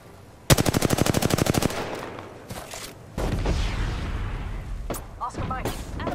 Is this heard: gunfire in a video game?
yes